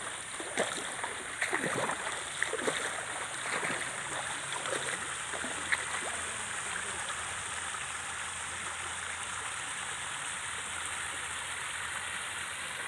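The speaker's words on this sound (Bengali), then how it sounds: "এই পাশে দেখেন একটা ঝর্ণা বয়ে গেছে" Steady rushing water from a flowing stream in a deep jungle fills the scene, with a few faint splashes and knocks early on.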